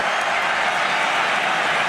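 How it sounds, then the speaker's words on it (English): A crowd of Irish fans at an Ireland versus Wales Six Nations rugby match roars and applauds in a dense, continuous wall of cheering that holds steady throughout. "You can hear the cheers go up from the Irish crowd."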